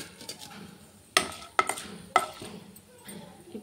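Spices for tempering hit hot oil in a pan, alongside onion, curry leaves and dried red chillies: three sharp, crackling bursts spaced about half a second apart, with quieter kitchen clatter around them.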